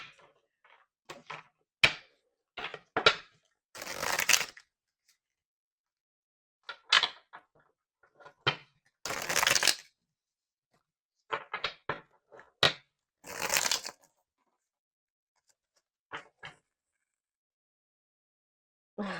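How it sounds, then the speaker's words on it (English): Tarot cards shuffled by hand in short, sharp bursts of riffling and tapping, separated by quiet gaps, close and fairly loud. "while I was shuffling this deck"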